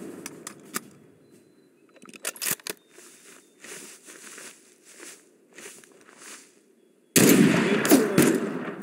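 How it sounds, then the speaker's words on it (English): Gunfire in the game Mud and Blood: scattered sharp cracks and short bursts at moderate level, ending in a loud, dense burst of rapid shots that runs to the end. "Let me lay down some cover fire."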